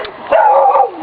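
Dog making a single drawn-out yelping bark that rises and fades, close and loud, with no talk.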